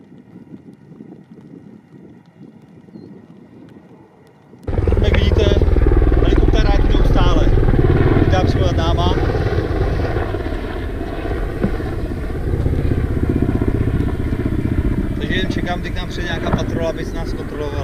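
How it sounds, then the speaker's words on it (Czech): A patrol helicopter circles low overhead in the mountains near the town of Hura, Israel; its loud rotor roar bursts in after a quiet wind-filled start and stays strong and steady, swelling slightly as it passes. "helikoptéra, která to tu stráží, takže co 5 minut nám krouží nad hlavou"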